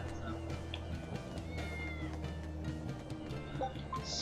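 Cats meowing in a town of cats in the video game Tales of Berseria, faint scattered mews over a steady, droning game background.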